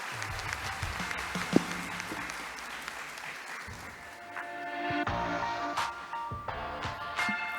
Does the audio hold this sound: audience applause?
yes